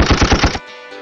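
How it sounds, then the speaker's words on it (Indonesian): Rapid burst of sniper rifle gunfire in a video game tournament match, about five loud sharp shots in quick rhythm, then cutting off to a quiet tail with faint ringing. "Tembakan sniper."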